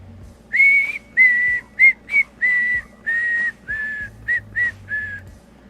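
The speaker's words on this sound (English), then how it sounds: "I love the new T-spin reload whistle sound like." Short game whistle sound effects from the video game Town Star, a series of about ten bright, clear whistle tones of varying length in an uneven rhythm, loud and close.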